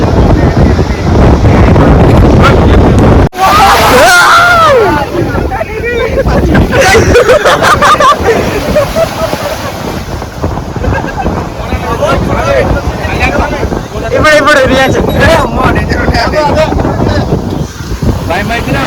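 Strong wind gusts buffet the microphone at a waterside spot, roaring loudly and steadily beneath people talking.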